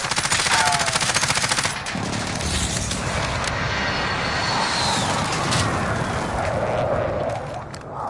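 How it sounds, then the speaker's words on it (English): An airstrike in the video game Call of Duty Warzone: a rapid burst of automatic gunfire at first, then a loud sustained roar of jets and explosions that rumbles on and fades slightly at the end. "Mark target for airstrike. Bring it."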